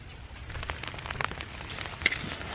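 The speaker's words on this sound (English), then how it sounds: "it's starting to rain again." Light rain patters and ticks on a tent nearby during a November overnight hike, a soft irregular spatter with a few sharper drops, no voices.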